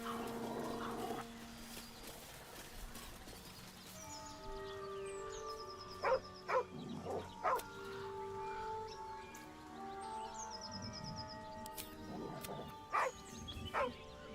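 A dog beside a corpse in the video game Baldur's Gate 3 whines and gives several short barks over a soft musical background, the barks coming in brief bursts spread across the scene.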